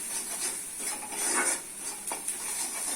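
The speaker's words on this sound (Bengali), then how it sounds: "দিচ্ছি মশলা এক চামচ হলুদ গুঁড়ো এক চামচ লঙ্কা গুঁড়ো এক চামচ জিরে গুঁড়ো এক চামচ লবণ এক চামচ এক গুঁড়ো খুব ভালোভাবে কষে নিতে হবে" Turmeric, chili and cumin powder with salt being sautéed in a pan, a faint sizzle under steady stirring and scraping, close and alone.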